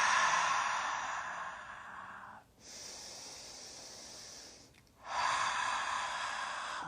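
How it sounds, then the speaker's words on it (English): During a gentle yoga class, a long, breathy exhale through the open mouth sits between two hissing inhales, close to the microphone and alone with no talk. "try the exhale with the mouth open, because it's easier while you get used to it"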